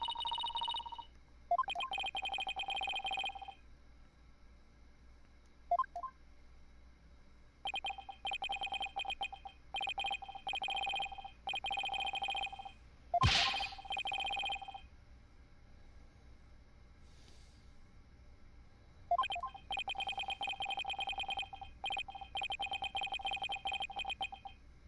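A cell phone rings in Phoenix Wright: Dual Destinies, its electronic ringtone pulsing in repeated bursts separated by short pauses, with one sharp burst of noise partway through.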